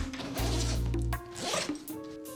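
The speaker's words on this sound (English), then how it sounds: "open the zipper right here" A zipper on a camera backpack is pulled open close up in a couple of quick, raspy strokes with a short pause between, followed by soft rustling of the bag.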